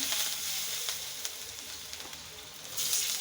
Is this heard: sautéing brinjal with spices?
yes